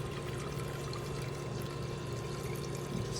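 100% acetone pours steadily onto a car keycard, a continuous close liquid splash and trickle with an even, unbroken flow and no talking.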